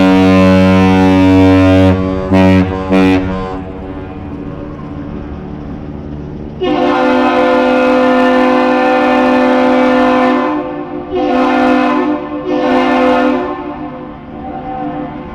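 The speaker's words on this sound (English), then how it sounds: "It's one long tone by the horn, followed by 2 short tones." A ship's horn gives the captain's salute on a Great Lakes ship arriving at a Twin Ports harbor: one long, loud, deep blast, then two shorter blasts, all carrying clearly with no talk.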